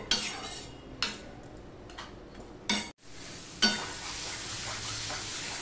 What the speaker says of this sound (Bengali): দিয়ে মশলাটা কষিয়ে নেব সবজির সাথে।